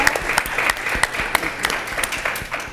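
A crowd applauds steadily, dense clapping that holds at a fairly loud level throughout.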